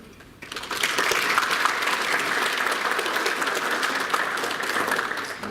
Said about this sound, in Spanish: Recibamos pues con fuertes aplausos a nuestro invitado